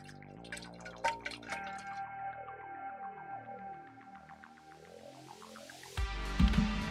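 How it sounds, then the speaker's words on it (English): Water dripping in a game scene: a string of clear, evenly paced plinking drops ringing with falling and rising tones, fairly quiet, ending in a brief louder splash. "Hear the water?"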